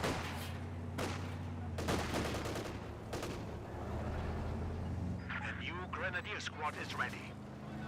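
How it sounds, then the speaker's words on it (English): An MG42 machine gun in Company of Heroes 2 fires repeated bursts at steady volume, mixed with other battlefield gunfire. A voice talks over the later part. "MG42 pretty far forward, firing away."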